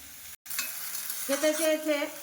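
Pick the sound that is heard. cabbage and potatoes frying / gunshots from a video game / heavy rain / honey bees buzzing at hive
cabbage and potatoes frying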